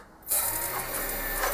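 Small lathe spinning up while a custom drip tip is hand turned, a steady mechanical whirr with faint rattling that starts abruptly and holds at an even level.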